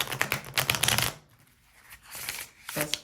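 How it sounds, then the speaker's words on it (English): A tarot deck on premium cardstock being riffle-shuffled, giving crisp rapid fluttering bursts up close, one long run, a pause, then a shorter burst at the end. "her decks have such a beautiful shuffle"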